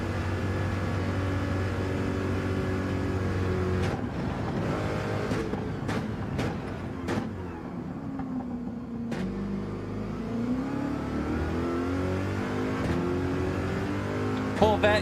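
Corvette race car engine in Gran Turismo 7, a steady loud drone with rising and falling revs and brief gear-shift breaks, running continuously throughout.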